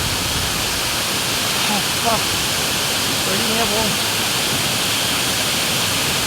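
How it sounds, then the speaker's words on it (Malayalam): A steady, loud broadband roar of a waterfall in a forest, with the water noise constant throughout while a voice speaks briefly over it. "വെള്ളച്ചാട്ടം അങ്ങനെയുണ്ട്."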